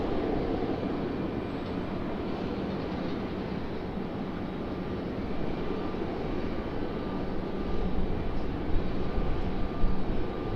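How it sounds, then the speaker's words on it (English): Lockheed C-130 turboprop engines at Raleigh-Durham International Airport, a steady broad roar that holds even and grows slightly louder toward the end, with no voices. "Looks like our C-130 is back."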